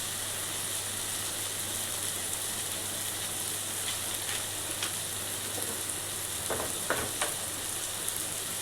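Onion garlic masala fries in a hot pan for a dry sodyachi bhaji, a steady, even hiss of sizzling oil with faint scattered crackles and a few light stirring clicks, no voices.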